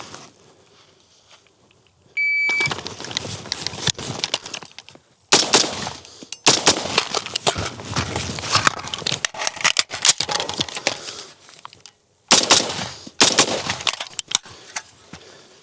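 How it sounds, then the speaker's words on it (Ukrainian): Handgun fired at paper targets from cover at a 20-metre shooting range, a quiet start followed by bursts of sharp, loud shots with a short gap for moving to a second position, close and without speech. "Я буду стріляти спочатку 4 постріли по двом цілям з одного укриття, і потім невелика перебіжка і стрільба з іншого укриття."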